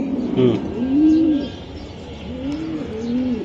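Club racing pigeons coo nearby, with several soft, rolling, throaty coos rising and falling in a loose repeating rhythm, with no one speaking.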